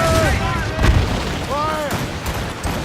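Naval cannons boom in the Assassin's Creed Rogue sea battle, a few heavy shots ringing out over the roar of the ship at sea, while shouted voices sound between the blasts.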